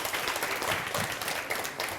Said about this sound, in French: Maximum d'applaudissements pour eux, s'il vous plaît.